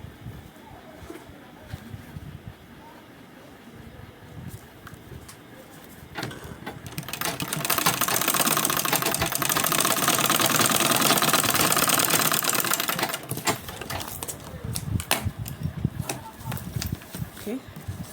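A sewing machine stitches a crossbody sling bag, a loud, steady mechanical whir running for several seconds in the middle, with quieter handling and start-stop bursts around it.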